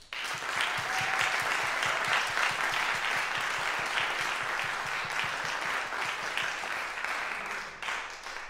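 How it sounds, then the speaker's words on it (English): Sustained audience applause at a music school student recital, a dense steady patter of many hands clapping for about eight seconds before tapering slightly at the end. "let us give them a, one more big round of applause"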